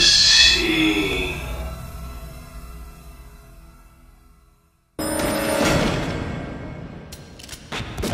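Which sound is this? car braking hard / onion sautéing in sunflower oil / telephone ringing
telephone ringing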